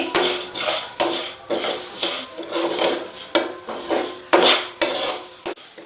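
Vermicelli frying in ghee in a pan on a low flame, stirred with a metal spoon that scrapes and clinks against the pan in repeated bursts over a faint, soft sizzle.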